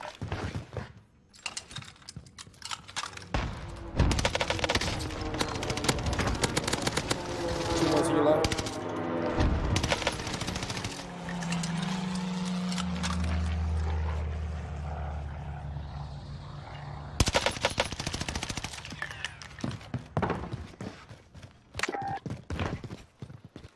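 Automaton rifle gunfire in Warzone gameplay, bursts of rapid shots and clattering effects mixed with other game sounds, varying in loudness over the stretch.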